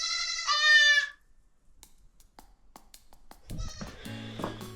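A newborn baby goat gives a loud, close bleat, followed by quiet shuffling and then another strained bleat from the kid in a snowy barn.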